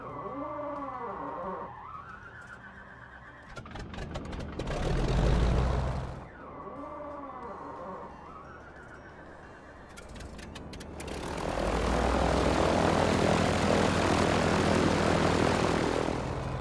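An F4F-4 Wildcat's radial engine in the MSFS 2020 flight simulator cranks with whirring starter sweeps, then catches and settles into a loud, steady propeller roar.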